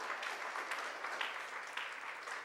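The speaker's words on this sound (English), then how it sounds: "A round of applause." Audience applause at a hockey team's 2018 awards ceremony, a steady wash of many hands clapping for a little over two seconds, moderately loud and uninterrupted by voices.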